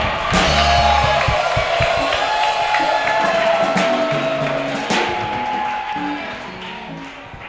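A church congregation at a prayer marathon cheers and acclaims loudly, a dense sustained crowd roar with whoops and shouts mixed with voices, keeping strong throughout before easing slightly near the end.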